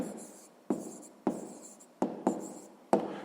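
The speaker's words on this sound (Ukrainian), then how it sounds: "І записуємо відповідь." Pen writing an answer by hand on paper, a series of about six short scratchy strokes, each a sharp tap trailing off, close and quiet.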